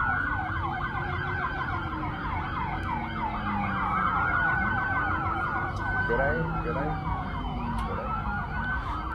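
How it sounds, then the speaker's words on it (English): Several police car sirens wail at once at a busy incident scene, overlapping rising and falling tones, loud and continuous over traffic rumble for the whole stretch. "look at the amount of police cop cars that showed up to this incident."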